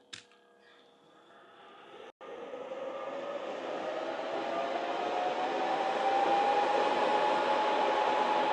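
A Benjamin Recharge personal air compressor starts up with a brief clatter, cuts out for an instant, then settles into a steady, close, rising motorized whir with a high whine that holds loud and continuous.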